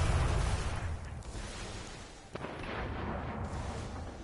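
Rockets firing in a video game, a low rumbling boom at the start that fades into a distant roar, followed by a sharp crack and a fainter thump, all set against a muffled background of gunfire.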